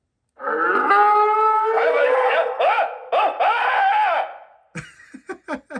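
A loud, drawn-out electronic cow moo from a Lionel Vision Line toy train stock car, wavering in pitch, followed by several short, sharp mooing bursts in quick succession.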